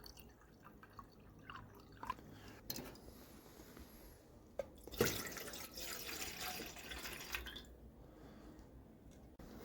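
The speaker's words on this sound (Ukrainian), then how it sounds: "Знову пів літри води петрел і переливаю у великий баняк." Half a litre of water poured into a large pot, a soft splashing pour with drips, faint and close, no talking.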